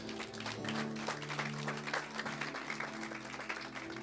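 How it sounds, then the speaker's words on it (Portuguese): Members of a church congregation applaud the Lord during a Portuguese-language sermon, a dense, lively patter of many hands clapping steadily while a low sustained organ or keyboard tone hums beneath. "Você pode aplaudir ao Senhor?"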